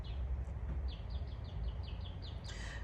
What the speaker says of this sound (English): You hear the birds singing? That's a mockingbird.